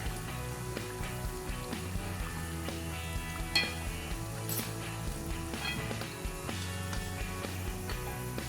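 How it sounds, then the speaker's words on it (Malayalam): Poricha pathiri, a Malabar fried snack, sizzles steadily in hot oil while it is stirred and scooped out, with faint clinks of a metal utensil against the pan throughout. "നമുക്ക് എണ്ണയിൽ നിന്ന് കോരിയെടുക്കാം."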